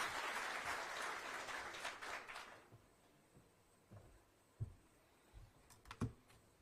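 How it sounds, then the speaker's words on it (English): Applause welcoming PS Susan Mangeni at a World MSME Day event at KICC, Nairobi: a short burst of crowd clapping that fades after about two seconds, leaving faint room noise and a few scattered knocks. "We can welcome her with a clap."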